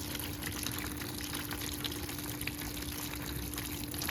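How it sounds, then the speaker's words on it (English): Water running steadily into a red wiggler worm bin being prepared with fungal-dominant bedding, a soft continuous trickle and splash, fairly faint and unbroken, over a faint steady hum. "So I'm just going to go ahead and fill it up with quite a bit of water."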